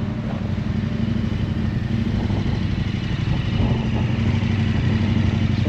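Motorcycles on a seaside road, a steady loud engine drone with a clattering mid-range rumble that swells slightly toward the end, with no talk over it.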